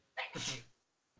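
A single sharp sneeze with a quick intake and burst, close and fairly quiet, followed by a brief silence and a faint sound at the end.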